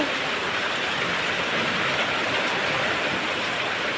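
Rain falls in a constant, even hiss that stays bright and unbroken throughout, with no voices or other sounds.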